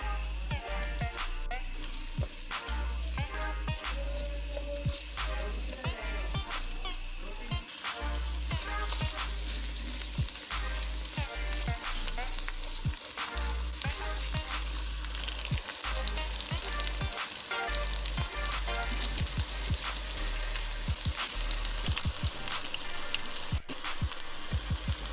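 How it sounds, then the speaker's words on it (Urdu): Onions frying in oil in a pot with tenderised meat for cauliflower gosht, a loud continuous sizzle broken by frequent clattering strokes of a stirring spoon, close up, with no talking. "پیاز کو لائٹ گولڈن ہونے تک اچھی طرح پکائیں گے"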